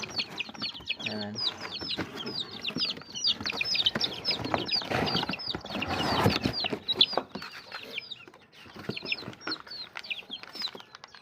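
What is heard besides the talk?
chicks peeping inside a cardboard box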